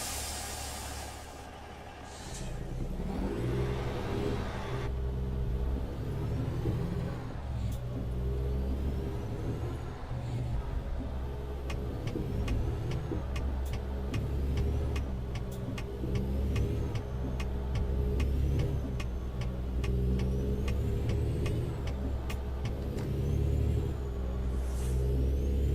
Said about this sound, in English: if you put the lift axle up, it makes that sound, where it sounds like you're running over things